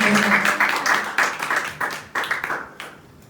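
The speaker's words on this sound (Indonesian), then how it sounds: "berikan tepuk tangan Tuhan" Church congregation clapping during an Indonesian Christian sermon, a burst of claps that thins into scattered hits and fades out over a few seconds.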